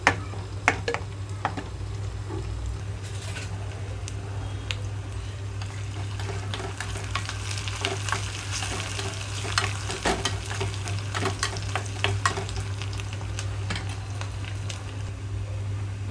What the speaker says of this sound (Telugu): రెండు నిమిషాల తర్వాత తాలింపు అంతా వేగిపోయింది